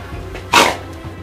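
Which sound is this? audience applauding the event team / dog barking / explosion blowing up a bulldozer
dog barking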